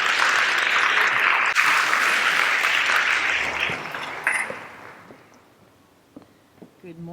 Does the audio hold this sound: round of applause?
yes